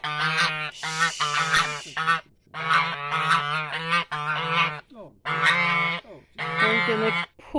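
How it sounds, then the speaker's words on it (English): A goose honks loudly and close by in repeated harsh bursts, about six calls with short gaps between them. "So we'll have a look at Leonard, the goose, known as Lulu"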